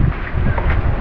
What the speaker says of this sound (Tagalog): Grabe oh, ang lakas ng hangin.